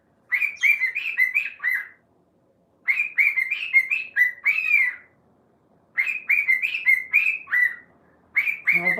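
A cockatoo calls in loud, close bursts of whistled chirps, three rapid volleys repeating every few seconds with short quiet gaps, ending on a harsher squawk.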